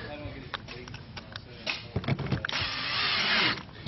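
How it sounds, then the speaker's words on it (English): A power drill drives screws into wood outdoors with short whirring bursts and a longer sustained run at the end, with people talking over the work. "We're just going to get the screws started."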